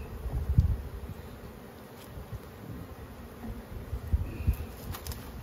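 Honey bees buzz softly around an open beehive during frame swapping, making a faint, low hum with a few closer passing buzzes.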